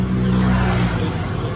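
A car engine tuned with an ECU throttle controller in speed mode holds a loud, steady revving drone close by, with a constant low hum throughout and no speech.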